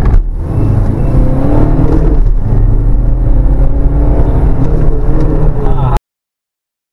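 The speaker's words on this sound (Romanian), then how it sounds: "Încercăm să facem și un 0-100." A stage 1 tuned BMW E90 320 diesel accelerating hard from 0 to 100 km/h, its loud engine roar climbing steadily through the revs before cutting off abruptly.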